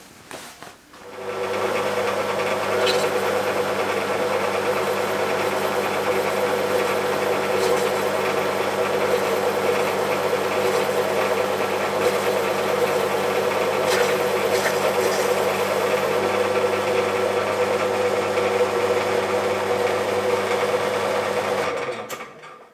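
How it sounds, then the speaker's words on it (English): An end mill cuts across a homemade axial flux wind turbine stator, giving a steady, loud whine that holds unbroken for about twenty seconds before stopping abruptly, with no talking. "I'm gonna end mill in nice and tidy, and I'll be able to get to them."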